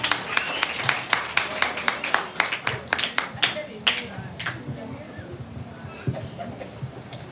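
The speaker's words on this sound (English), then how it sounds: "Give her a big round of applause." An audience at a school graduation ceremony claps for an arriving guest speaker, a run of sharp individual claps that starts strong and thins out over several seconds, with a voice heard in the background.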